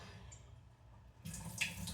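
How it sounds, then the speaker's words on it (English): Kitchen tap turned on lightly while mixing meatloaf by hand, faint dripping at first, then a soft steady stream of running water starting partway through, close and quiet with no talking. "turn the water on a little lightly"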